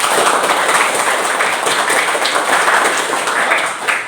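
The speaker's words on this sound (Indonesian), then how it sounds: "Tepuk tangan 174." In an Indonesian language classroom, students clap steadily and loudly together in a continuous, dense burst that sounds like close applause and lasts several seconds.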